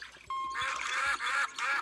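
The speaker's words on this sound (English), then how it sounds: "Add a rubber ducky." A rubber duck toy in a virtual bathtub game on a phone or iPad gives several short, nasal quacks in quick succession. The quacks are clear and close, with brief gaps between them.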